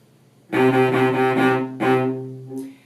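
A bowed string instrument plays one low C in a quick repeated rhythm, four sixteenth-note strokes and then two longer eighth notes, clear and close.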